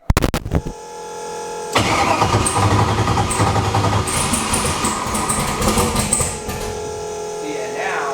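A 5.3 V8 in a car tuned for over 1000 hp cranking and struggling to start while likely flooded, with a few sharp clunks, then a loud, rough, sustained churning engine roar that drops to a lower drone.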